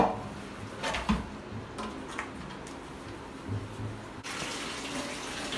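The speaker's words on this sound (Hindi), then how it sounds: "कितने सुंदर बर्तन धोते हैं" Tap water running into a kitchen sink while dishes are washed in a home, a steady close rush with a few light knocks and clinks from utensils; no voices.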